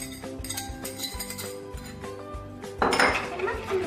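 Vegan apple upside-down cake batter with oil, vanilla and applesauce being mixed in a bowl, giving steady utensil clinks and scrapes against the bowl, growing louder and busier toward the end.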